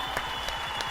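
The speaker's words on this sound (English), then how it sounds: "Give yourselves a round of applause." Applause rises from the audience at a Valorant tournament grand finals as the winning team is congratulated, a steady wash of clapping with a few sharper bursts, fairly loud and continuous across the moment.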